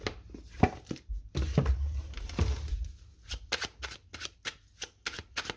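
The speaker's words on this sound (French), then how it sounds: "Je vais déjà préparer mes petites cartes." Tarot cards being shuffled by hand close up, a run of soft riffling and slapping bursts followed by quick, evenly spaced card flicks, with no talking.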